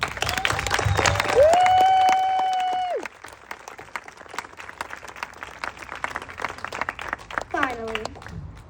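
At an elementary school commencement, the audience breaks into lively applause mixed with rising whoops and cheers, with voices chattering through the clapping.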